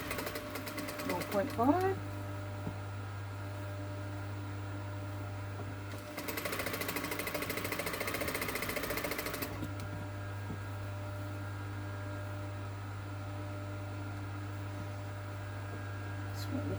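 A sewing machine stitches fabric for a scroll on a fireside chair, its steady motor hum running throughout with a louder, buzzier stretch of fast stitching midway; a brief voice speaks near the start.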